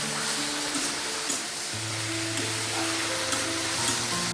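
Vegetable curry sizzles steadily in a pan as turmeric and coriander powder are stirred through it, with soft scraping strokes over a constant frying hiss and no talk.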